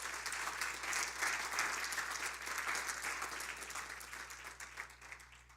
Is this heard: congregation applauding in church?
yes